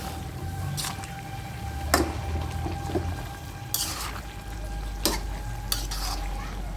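Malabar spinach and hilsa fish head being stirred in a pot, with scraping utensil strokes at about 2, 3.7 and 5 seconds over a steady low sizzle, moist squishing between strokes.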